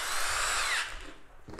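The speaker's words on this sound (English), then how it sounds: "I'm also going to real quick drill one on the" A power drill whines loudly as it bores into 1/2 inch PVC for just over a second, then winds down and stops with a faint rattle.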